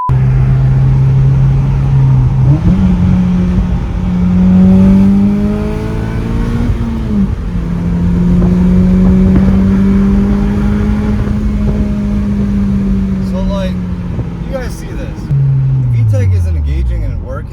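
Turbocharged Acura TSX engine revving up and down in long sweeping pulls, rising into the high-rpm VTEC range, loud and close with a brief drop and fresh climb near the end.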